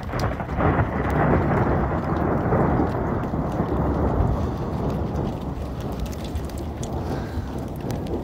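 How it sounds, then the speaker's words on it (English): Thunder rumbles during a March thundersnow and graupel storm, a loud, deep, rolling roar that swells and sustains for several seconds over the hiss of falling pellets before slowly easing off. "it's thundering."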